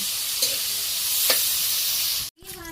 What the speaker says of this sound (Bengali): এই আমার করলা ভাজি হয়ে গেছে, নামিয়ে ফেলি